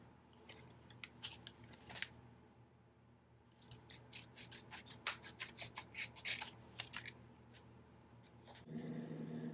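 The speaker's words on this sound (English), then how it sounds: "since this is a sticker, I'm going to cut this." Scissors cut around a paper sticker in a scrapbooking project, a run of quiet, close snipping and rustling strokes over a faint background hum, with no talking.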